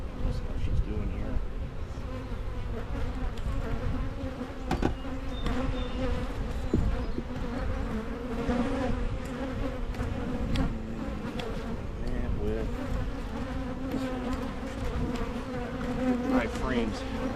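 Honeybees buzz steadily around an open hive during a split inspection, a dense close hum filling the whole clip, with the beekeeper speaking quietly at times.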